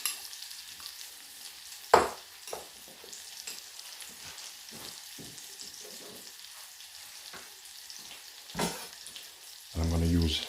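Prawns and vegetables frying in a pan as they are stirred, a soft steady sizzle with scattered scrapes and a couple of louder utensil knocks, plus a brief harsher burst at the very end.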